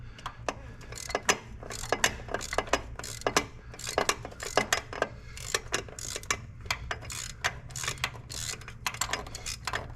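A ratchet turning a 24 mm deep socket on a swivel, clicking in quick repeated bursts of sharp pawl ticks with brief pauses between strokes, close and crisp over a low steady hum.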